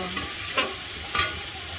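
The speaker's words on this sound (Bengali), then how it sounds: "এই যে মশলাটা এখন সবজি দিয়ে ভালো করে কষিয়ে নেব।" Vegetables frying with spice paste in a pan give a soft steady sizzle, broken by three quick scraping stirs, close and alone.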